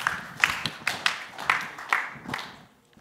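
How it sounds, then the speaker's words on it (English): A conference audience claps for a startup pitch at the Next Billion Prize semi-final, with sparse, fairly close individual claps in an uneven rhythm that thin out and fade toward the end. "Round of applause."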